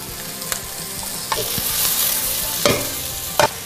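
Ginger slices hitting a hot pan with onions already cooking for a beef and broccoli dish, giving a steady close sizzle with a few sharp louder spits and stir scrapes along the way.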